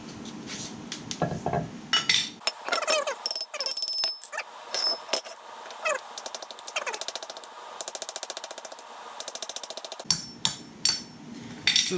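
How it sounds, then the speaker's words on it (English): Metal hammer blows ring out on the front hub of a project car during a hub swap, a fast series of sharp strikes in quick bursts, then a long run of rapid even taps, close and loud. "I'm just going to use the hammer."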